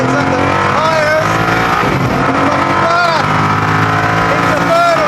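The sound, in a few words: Koenigsegg Agera R accelerating hard with tyres spinning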